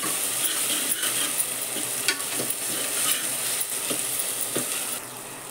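Onion being sautéed in a pressure cooker for pav bhaji, a steady close sizzle with scraping stirring clicks from a spatula recurring throughout, with no talk.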